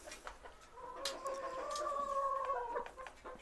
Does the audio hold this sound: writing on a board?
no